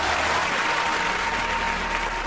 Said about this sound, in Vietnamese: Lập tức tiếng vỗ tay và hoan hô nổi lên vang dội.